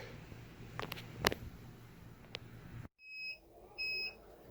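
A heat press timer sounds two clear, evenly spaced electronic beeps at the end of a 60-second press of a polyester shirt being sublimated at 400 degrees, following some handling noise and then a hush.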